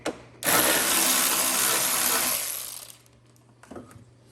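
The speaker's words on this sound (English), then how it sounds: "Switch back to your 8mm with the extension and tighten up these bolts that hold the headlight in." A ratchet fitted with an 8mm socket and extension tightens headlight bolts on a Grand Marquis or Crown Victoria, giving one sustained burst of rapid close clicking that stops short, followed by a brief faint rattle.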